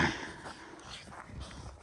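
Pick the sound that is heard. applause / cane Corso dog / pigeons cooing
cane Corso dog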